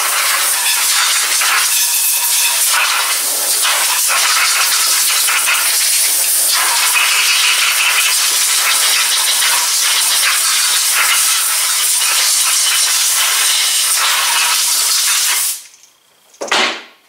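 Compressed air blasting into the clutch of a Polaris RZR XP 1000, a loud continuous close-up hiss that runs steadily, then cuts out and gives one brief final burst.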